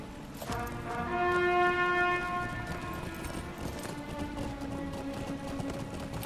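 Horse hooves clip-clop in the online game Lord of the Rings Online, a steady trotting rhythm under a sustained droning musical tone that fades after a few seconds, with no talking.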